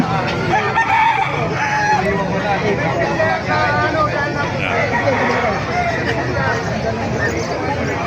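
Roosters crow amid a busy outdoor market in Bocaue, their calls mixed with clucking hens and people chatting in the background.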